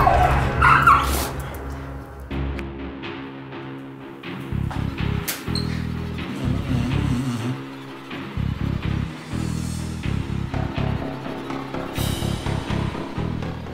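An aggressive, fearful dog being handled by a trainer barks, yips and whimpers in repeated bursts, close and loud, over a low background rumble.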